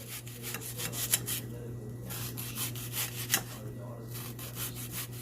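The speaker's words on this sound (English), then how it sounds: "I've cut off the top and the bottom, and I'm going to cut it in slices." Knife slicing through an onion with the top and bottom already cut off, a steady series of soft rasping cuts against a board under a constant background hum.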